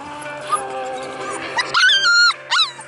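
Young golden puppies whimper in thin, wavering cries, then break into a few sharper high yips near the end, close by and fairly loud.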